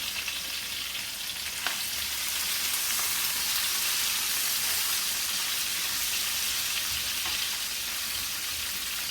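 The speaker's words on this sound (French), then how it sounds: "je vais venir mettre mes oignons et les poivrons verts" Onions and green peppers fry in oil with a steady, dense sizzle that holds evenly throughout, with faint clicks now and then and no voices.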